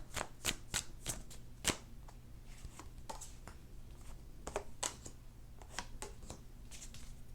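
Tarot cards riffled and pulled from a deck, giving repeated sharp papery snaps and slaps in irregular bursts, close and fairly quiet, with no talking.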